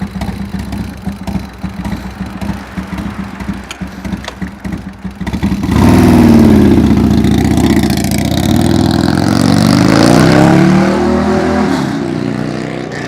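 A motorbike engine, parked before a ride around the block, is quiet and distant at first, then roars up close at about the halfway mark and keeps running loudly with rising and falling revs.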